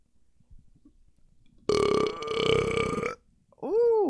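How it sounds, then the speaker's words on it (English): A long, loud, rumbling burp right after drinking almond milk, lasting over a second, then a shorter rising-and-falling vocal burst, recorded up close with no speech. "Almond milk might be the secret to getting the best burps."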